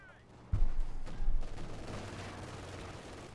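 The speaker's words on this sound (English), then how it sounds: "That house is about to come into some serious firepower from the artillery." Artillery in the video game Company of Heroes 2 fires on a house, a heavy boom that lands sharply and rolls into a long, rumbling decay with a second thud just after.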